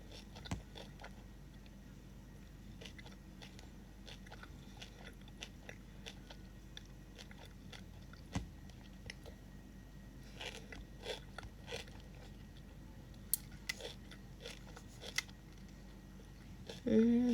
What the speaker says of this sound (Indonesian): Aku ngunyah dulu, sumpah ini enak banget.